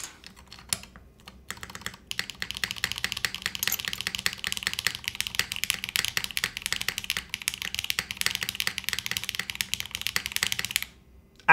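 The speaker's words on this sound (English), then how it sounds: "this is the Curry switch, sounds really good with the GMK" Rapid, steady typing on a DR-70F mechanical keyboard fitted with Curry switches and GMK keycaps, a dense run of close, crisp keystrokes lasting about nine seconds with no talking, ending in a brief pause and one final key press.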